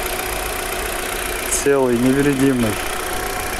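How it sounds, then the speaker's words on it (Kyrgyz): A 2016 Kia Rio with a 1.6 engine and automatic gearbox idles with an even, steady hum, heard up close throughout. Partway through, someone speaks briefly over the engine. "Мотор ровный иштеп турат."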